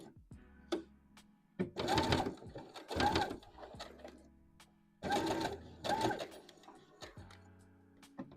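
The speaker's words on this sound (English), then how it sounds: "we are back at the sewing machine here" Sleeves being sewn to a dress cuff on a sewing machine, heard as four short, close whirring runs separated by quiet gaps with faint handling clicks.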